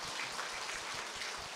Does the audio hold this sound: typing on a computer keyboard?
no